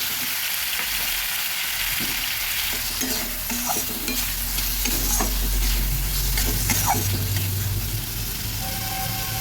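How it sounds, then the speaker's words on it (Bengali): Spices and chopped tomato fry in a pan with a loud, continuous, close sizzle, joined by occasional stirring scrapes throughout; no voices. "মশলাটা যখন কিছুটা ভাজা হবে দিয়ে দিচ্ছি কুচনো টমেটো"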